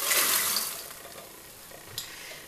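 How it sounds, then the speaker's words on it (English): Popcorn poured from a hot pan into a bowl makes a brief rushing, rustling cascade that fades out, then a small clink near the end. "I'm going to throw my popcorn into my bowl."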